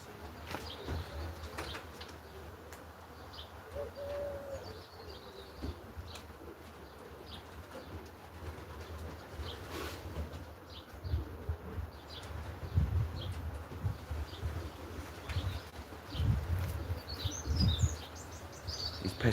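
A racing pigeon flies around a loft, with intermittent wing flaps, soft coos and chirps among low rumbles and occasional scattered bird calls, no speech.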